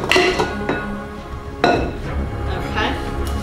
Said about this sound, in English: And then I am going to add the frozen blueberries.